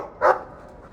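A single short, mid-pitched bark from a dog in the Dragon Age 2 video game, close and clear against a quiet background.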